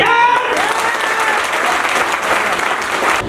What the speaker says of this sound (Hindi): इतनी जोरदार तालियां बजाएं इनके लिए